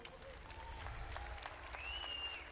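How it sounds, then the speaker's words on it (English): Crowd applause for women competitors at a timbersports championship awards ceremony, continuous clapping at moderate distance with a faint whistle and some voices in the crowd. "ladies and gentlemen, we'll give a big round of applause for Katrina Head."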